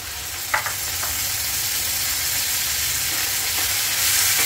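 Garlic paste and tomato sizzle in a pan with softened onion, a steady broadband frying hiss with a couple of brief stirring clinks near the start, close and continuous throughout.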